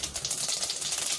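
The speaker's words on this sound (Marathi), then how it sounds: "मोहरी तडतडली का जिरं टाकायचं" Mustard seeds crackling in hot oil in a pan: a dense, rapid, close popping and spitting that runs continuously and loudly for about a second.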